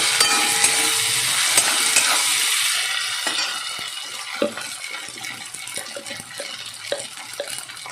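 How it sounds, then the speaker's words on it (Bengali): Fish curry being fried in a pan with ginger paste, after potatoes and onions have browned: a steady sizzle that is loudest at first and then eases, broken by scattered clinks and stirring knocks, with no talking. "আদা বাটা দিয়ে একটু কষিয়ে নেব।"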